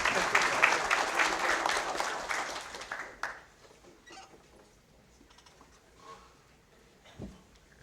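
Audience applause at a board of education meeting, loud and dense for about three seconds before cutting off into quiet room noise with faint scattered sounds.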